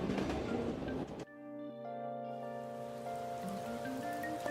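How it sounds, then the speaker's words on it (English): Rain falls steadily in the game Persona 5 The Phantom X, a soft continuous patter layered with sustained in-game music tones after an abrupt cut. "Rain again."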